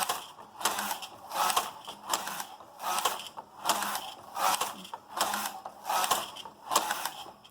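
A Superba knitting machine fitted with a knitting retainer is run in stockinette. The carriage sweeps back and forth in a steady rhythm, giving repeated mechanical clattering passes about every second, close up and alone.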